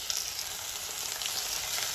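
Chopped tomatoes fry with golden-brown onions for a fish dish cooked with sesame. A close, even, hissing sizzle fills the short stretch without letup.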